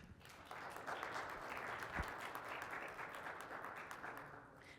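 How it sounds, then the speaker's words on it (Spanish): Audience applause at a Python programming conference talk on natural language processing, a steady, dense wash of many hands clapping that holds for several seconds at moderate distance and fairly low level, with no talking over it. "Un aplauso para ella."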